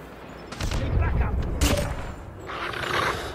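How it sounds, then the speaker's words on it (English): Gunfire in a Call of Duty Mobile clan war match, a few close bursts of shots over the first two seconds and more toward the end, with game sounds and a voice talking over it. "Who's shooting me? Why are you shooting?"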